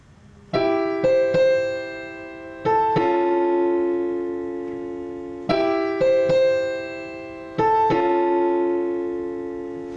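A simple piano melody picked out one note at a time in the right hand, in two matching phrases of struck notes that ring and decay, clear and close.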